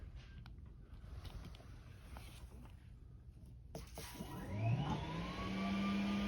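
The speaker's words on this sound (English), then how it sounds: "We can turn the vacuum on." The vacuum motor of a Taski 2500 floor scrubber starts up, building to a steady whirring drone over faint mechanical clatter and creaks.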